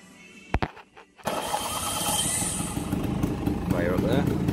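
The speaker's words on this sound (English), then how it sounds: "So I think you've got to pull the clutch in when you start it." A Piaggio Vespa PX125 scooter engine starts after a couple of brief clicks and a short cranking burst, then catches and settles into a loud, close, buzzy idle with a slight rise toward the end; a voice talks faintly over it.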